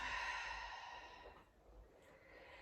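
A slow, deep exhale during a yoga half plank pose, a soft breathy rush of air close to the microphone that fades out over a couple of seconds, with no talking.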